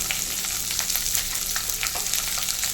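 Sliced medium onion frying with urad dal in a pan for tomato chutney, a steady close sizzle with faint crackles and occasional light stirring scrapes, no voices.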